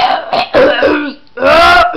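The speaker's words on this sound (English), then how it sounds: "clear your throat" A person clears their throat loudly and up close in several harsh, rasping bursts with a brief pause between them. The last burst is voiced and drawn out.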